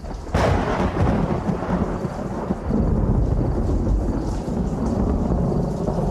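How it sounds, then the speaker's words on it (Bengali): A sudden thunderclap cracks, then a heavy, rumbling downpour of rain roars on steadily, loud and constant throughout. "আচমকা বাজ পড়ার শব্দে আমাদের কানে যেন তালা লেগে গেল।"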